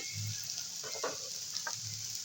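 Chopped capsicum sizzles in a pan of chira pulao over a raised gas flame, a steady frying hiss with a few soft stirring scrapes and clinks partway through.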